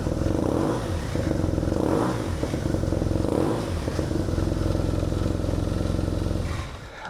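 A custom BMW R nineT motorcycle with a baffled exhaust runs loud and close after starting up, with a steady throbbing engine note and a few rev swells before it cuts off at the end.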